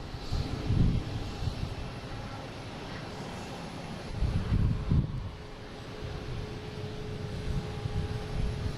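A passenger jet at Boston Logan International Airport rumbles low and distant in a steady roar, with gentle swells and wind noise outdoors.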